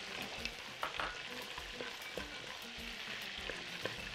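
Walnuts sizzling in a hot oiled frying pan, a steady close crackle and hiss with small stirring clicks and knocks throughout.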